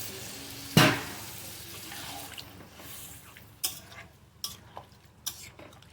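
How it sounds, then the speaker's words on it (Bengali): Water is poured into a pan of shrimp and diced potato curry, with a sharp splash and hiss followed by soft simmering and a few light stirring knocks against the pan. "জল দিয়ে দিলাম।"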